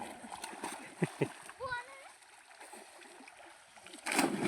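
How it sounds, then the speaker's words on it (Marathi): A splash of water breaks out as a child dives in headfirst, followed by rippling and voices nearby, then another burst of splashing near the end. "आद्यानं सुळकी मारली"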